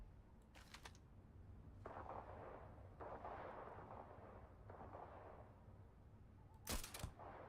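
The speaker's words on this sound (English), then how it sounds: "They're just shooting in the air." Gunfire from enemies shooting in the space game Starfield: broadband bursts of shots near the start and near the end, with a steadier rumble of fire and action through the middle, fairly quiet overall.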